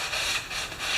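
A brush scrubs grime off a red Powermore lawnmower, giving quick, close, rough rubbing strokes in a short burst with no talk.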